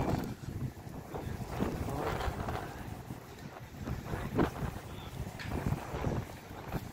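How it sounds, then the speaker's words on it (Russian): Strong wind in a new park near the Baku railway station, gusting in rough, buffeting bursts against the microphone with a low rumble throughout, steady and close. "После ветер сильный."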